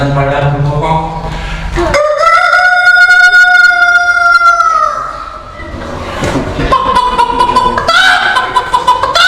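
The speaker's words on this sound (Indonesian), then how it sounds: "Ayam jantan pada berkokok." Roosters crowing at dawn, heard as drawn-out rising and falling calls that ring loud and near over an otherwise quiet morning, with a second crow following after a short pause.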